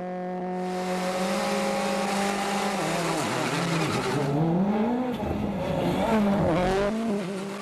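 Petter Solberg's Ford WRC rally car pulls away from the start line on a tarmac stage, its engine climbing hard through repeated upshifts, each gear sweeping upward with brief dips between, loud and close with faint tire noise.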